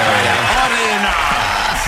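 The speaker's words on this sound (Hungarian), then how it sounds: "Adjál még tapsot a tavasznak" A studio radio audience claps for a morning show, a loud, dense stretch of applause close up. Talking and voices run over the clapping the whole way through.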